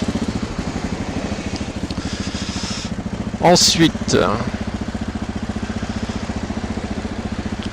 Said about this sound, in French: la moto va faire beaucoup moins de bruit